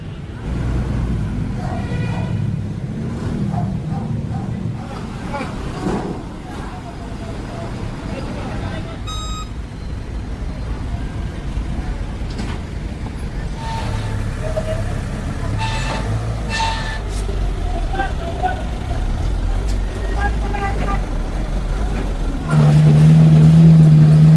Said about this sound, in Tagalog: At nagpapapasok na ng tow truck